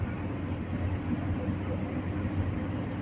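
Steady low rumble of a train moving at a railway station, continuous and fairly close, with no voices over it.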